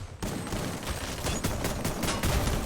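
Rapid bursts of automatic gunfire ring out in the Free Fire battle-royale game, dense overlapping shots firing continuously from above for the whole stretch, loud and close with no talk over it.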